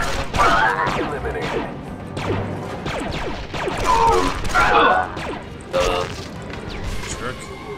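Rapid blaster fire from a Star Wars Delta Squad video game comes in loud, irregular bursts of zaps and impacts, mixed with game voices and explosions throughout.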